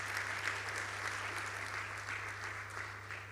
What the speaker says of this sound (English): Another round of applause to Professor Muligande.